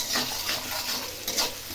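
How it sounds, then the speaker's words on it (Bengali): Sliced onions sizzle in a pan over medium heat for biryani, with a continuous crackling hiss and faint stirring scrapes, moderately loud and close, no voices. "পেঁয়াজটা ভালো মতো একটু হালকা পাতলা করে ভেজে নিচ্ছি"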